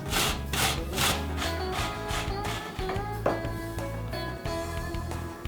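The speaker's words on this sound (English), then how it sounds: "Now I use a vegetable grater to grate the rutabaga into small pieces." Rutabaga rubbed against a vegetable grater in a home kitchen, a steady series of rasping back-and-forth scrapes at close range.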